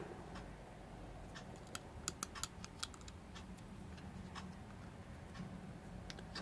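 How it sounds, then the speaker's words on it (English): A SIM card being pushed into the slot of a Bluetooth smartwatch phone, a series of faint close plastic clicks and ticks over quiet room tone. "I'm going to put the SIM card in."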